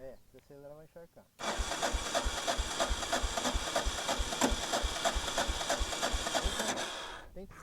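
A Yamaha Ténéré motorcycle engine catches and runs with a rapid, even rhythmic chug, loud and close, right after a brief stretch of speech; the engine then cuts out near the end.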